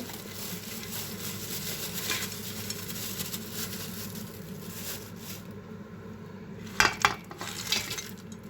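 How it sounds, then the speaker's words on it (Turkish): A spoon stirs a pot of meat and dried bean stew with a steady, soft scraping and faint simmering sizzle, then a few louder clinks of the utensil against the pot near the end. "Şimdi güzelce karıştıracağız ve tekrardan kalan suyunu ilave edeceğiz"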